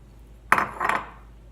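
A fork scrapes and clinks inside a mug while mixing coffee cake batter, in two short bursts of clatter close by, with quiet before and after.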